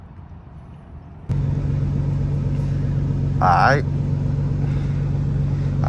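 Nissan GT-R R35 engine while driving: an idling hum jumps to a steady, droning engine rumble that holds under a man's brief speech, with a short swell in the middle.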